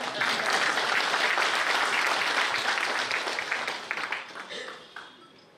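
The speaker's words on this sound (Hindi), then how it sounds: "ताली कम बजाया आपने।" An audience at a Hindi devotional lecture on Lord Ram applauds in dense, continuous clapping that gradually thins and fades toward the end.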